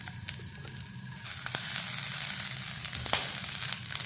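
Ponnanganni greens with cumin and pepper are sautéed in a pan, producing a continuous close sizzle that grows slightly louder, with a few sharp clicks from the stirring spoon.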